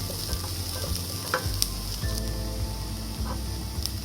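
Garlic and onion sauté in a hot pan for a homemade pizza sauce, giving a steady close sizzle and crackle with a few brief stirring clinks and scrapes throughout, no voices.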